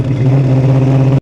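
A Mopar 383 V8 with an Edelbrock Performer intake manifold and headers idles loud and close, a deep, throbbing rumble with a chopped lumpy rhythm that stops abruptly.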